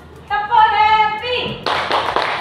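A group of standing participants performs the "tepuk happy" clapping game during a classroom icebreaker, a chanted voice leading at first, then a burst of sharp, close hand claps in a quick rhythmic pattern.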